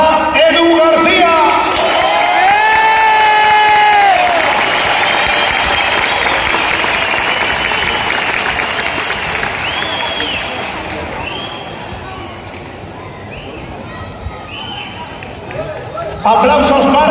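Crowd at a motorcycle show in Alcalá de Henares applauds rider Edu García, with steady clapping and scattered shouts and whoops lasting around fourteen seconds, a voice rising over it near the start and talk returning at the end.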